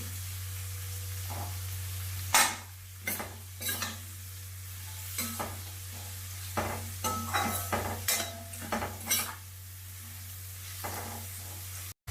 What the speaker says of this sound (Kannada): ಒಂದು ಐದು ನಿಮಿಷ ಚೆನ್ನಾಗಿ ಸ್ವಲ್ಪ ರೋಸ್ಟ್ ಆಗಲಿ ಇದು